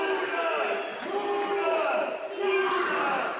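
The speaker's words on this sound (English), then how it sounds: "You can hear the chants for Huna." A wrestling arena crowd chants for Clayhuna, a loud rhythmic roar of many voices rising and falling in repeated waves.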